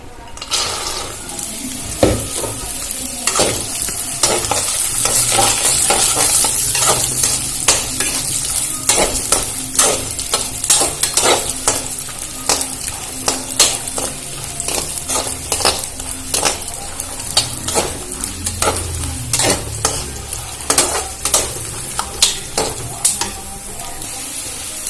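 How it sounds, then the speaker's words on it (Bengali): Washed and dried peanuts fry in a pan, a loud continuous sizzle broken by regular scraping and clinking strokes from the stirring utensil, close up with little talk. "বাদামগুলো দিয়ে ভেজে নেবো"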